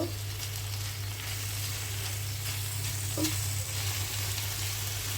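Bitter gourd being stirred in a frying pan after coriander powder and salt go in, a steady oil sizzle running throughout with faint scraping of the spoon, close and fairly loud.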